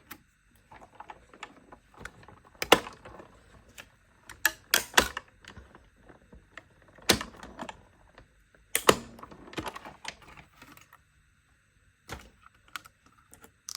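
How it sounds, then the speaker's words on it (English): Card stock cranked through a die-cut emboss machine, heard as intermittent clicking and clacking bursts with quiet gaps, fairly faint and close, no talking. "let's go ahead and run it through our cut emboss machine"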